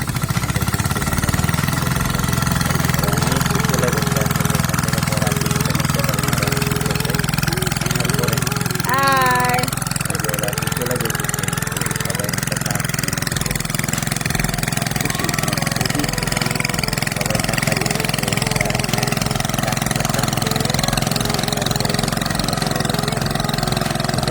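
A boat engine runs at a loud, steady idle throughout, a low continuous drone, with faint voices now and then.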